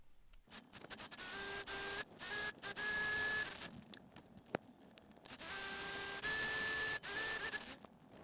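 A sewing machine stitches fabric for a ruffled phone holder in several sustained whirring runs with a steady motor whine, separated by short pauses, close and clear with no talking.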